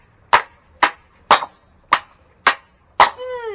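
Six sharp, evenly spaced chopping strikes ring out close by as wood is split into kindling, each a crisp crack with a brief decay, the last followed by a faint metallic ring.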